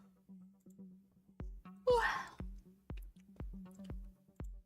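One person gives a single breathy yawn, close and moderately loud, over a steady faint hum and a regular pattern of soft clicks.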